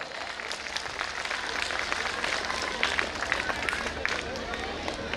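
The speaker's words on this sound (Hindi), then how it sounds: "एक बार जोर से हमारे बच्चों के कॉन्फिडेंस और उनके सुंदर प्रस्तुति के लिए जोर से ताली बजाएं।" Applause from parents at a school annual day celebration after a children's performance: a dense, steady wash of many hands clapping, somewhat distant, with a murmur of voices beneath.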